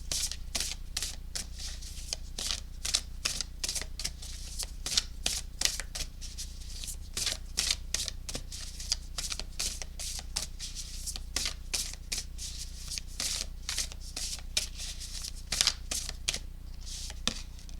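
Tarot cards are shuffled steadily and briskly, a dense run of crisp riffling flicks and slaps close up that goes on without a break, with a low hum underneath and nobody speaking.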